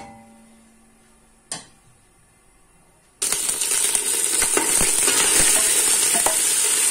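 Loud, steady sizzling of food frying in hot oil, starting abruptly after a quiet stretch with a single clack, continuing with crackles and pops.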